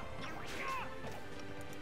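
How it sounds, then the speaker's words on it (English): Up smash attack landing in Super Smash Bros. during a grand finals match between Yoshi or Mario and Villager, a sharp crashing impact amid crowd and game noise, with no speech. "look at all these up smashes"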